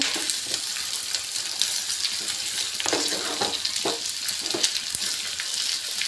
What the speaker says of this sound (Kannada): ಈರುಳ್ಳಿ ಫ್ರೈ ಆಗಿದೆ ನಾನಿವಾಗ ಆಲಿಗೆಡೆ ಹಾಕೋತಾ ಇದ್ದೀನಿ ಆಲೂಗಡ್ಡೆ ಹಾಕೊಂಡು ಚೆನ್ನಾಗಿ ಮಿಕ್ಸ್ ಮಾಡ್ಕೊಳ್ಳೋಣ